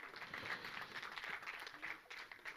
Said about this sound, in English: big round of applause from Mrunal and Shahid Kapoor